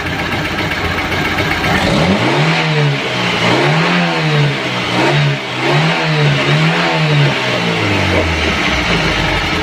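A carbureted 1988 Toyota Starlet engine, just after carburetor calibration, revs up and holds high in a steady rising-and-falling surge for several seconds, loud and close with no talking.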